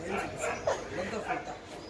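Golden retriever dogs bark and yip in short bursts during a bath, close by, while voices talk over them.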